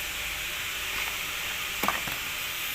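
A sidecar's steel frame is tack welded with a steady crackling sizzle. A couple of sharper pops stand out near the end, and no one speaks.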